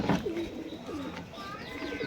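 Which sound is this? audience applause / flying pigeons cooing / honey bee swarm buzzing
flying pigeons cooing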